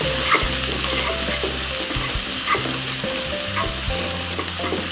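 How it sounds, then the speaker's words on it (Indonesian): Spice paste sautés in hot oil for a tofu and bean sprout dish, a steady close crackling sizzle broken by scraping stir strokes against the pan, with no talking. "Sekarang kita lanjut aja untuk tumis bumbunya. Kita tumis bumbunya sampai matang."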